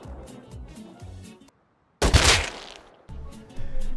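A single loud gunshot in the survival video game Rust bursts out after a brief silence, sharp and booming with a quick fade, set between stretches of game sound.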